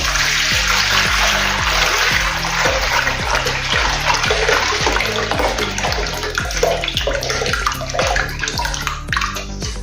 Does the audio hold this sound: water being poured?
yes